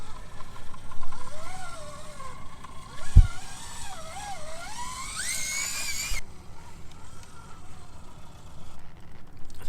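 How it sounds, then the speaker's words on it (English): A brushless motor spins inside an Injora TRX4M RC crawler fitted with diamond portal axles, a whirring whine that rises and wavers in pitch, close and steady, with a brief thump partway through. "That brushless motor spinning in there."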